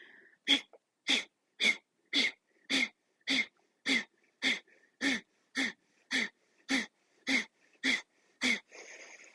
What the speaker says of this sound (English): Take a nice inhale. Keep the shoulders soft. Slow exhale.